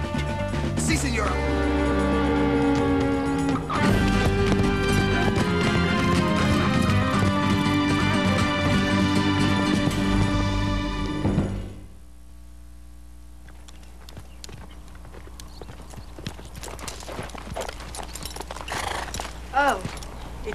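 A radio-drama horse effect: galloping hooves clatter loudly alongside whinnies over a dense, layered backdrop, then thin to quieter, sparser hoofbeats for the last several seconds.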